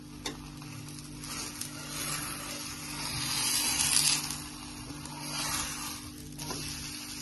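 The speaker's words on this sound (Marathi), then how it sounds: "आता ह्याच्यावरून आपण थोडंसं तूप टाकून हा पलटी करून घेऊया।" A rajgira paratha cooks in ghee on a pan, giving a faint, continuous sizzle over a low steady hum, swelling slightly in the middle.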